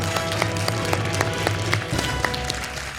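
Studio audience applause on a French TV quiz show, a steady wash of many hands clapping at moderate volume with a few sharper claps standing out, continuing throughout.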